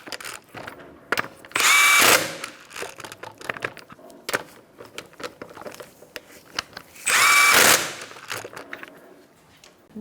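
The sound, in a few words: power tool tightening wheel lug nuts on Kia Soul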